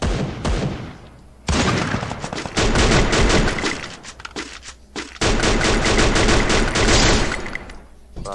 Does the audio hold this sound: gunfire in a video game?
yes